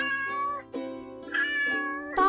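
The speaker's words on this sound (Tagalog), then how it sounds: "Yun ay tunog ng pusa." A cat meows repeatedly, several drawn-out, tonal cries in a row, close and clear with short pauses between them.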